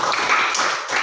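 Children in a classroom lesson clap together in a short, dense burst that stays loud and even for about a second.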